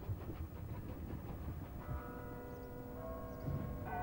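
A Mid-Hants Railway steam train chugs along in the distance near Alresford with a steady rumble, and a sustained whistle sounds faintly partway through.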